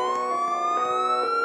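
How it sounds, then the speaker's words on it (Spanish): Police sirens wail continuously and loudly with a steady rising tone, alone with no talk. "se escuchan las sirenas de la policía"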